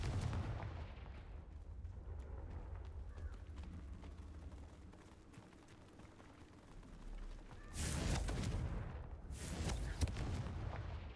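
Confringo fire spell explosions in the video game Hogwarts Legacy: a low rumbling backdrop, then two loud booming blasts near the end, the second trailing into a roar.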